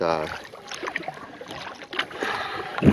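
A kayak is paddled across a lake in Algonquin Park at ice-out. Soft watery splashes and drips come from close by over a steady outdoor background.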